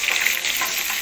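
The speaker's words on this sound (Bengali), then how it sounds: "মাছটা ভাজা হয়ে গেছে, মাছটা আমি এরকম তুলে নেব।" Small fish fry in hot oil, giving a close, steady hiss of sizzling with light bubbling texture throughout a short moment and no talk.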